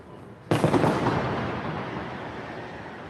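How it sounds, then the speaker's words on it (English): A distant explosion booms once, a sudden blast followed by a long rumbling decay that fades over a few seconds, heard in an outdoor street setting with no talk. "So you can see the plumes of smoke every time these explosions go off."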